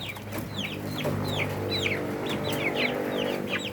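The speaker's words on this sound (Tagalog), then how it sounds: "yung mga sisiw ng Rhode Island, 2 weeks pa lang yan" Two-week-old Rhode Island chicks peeping and clucking in a farm brood, a steady run of short rising chirps from several birds, close by, over a low hum.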